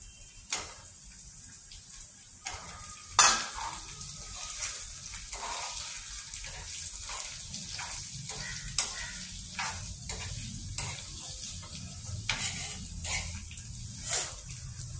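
Taro pieces and onions fry in a pan for chilakada dumpa pulusu, giving a steady crackling sizzle with scattered sharp pops and stirring scrapes, close and continuous, with no talking.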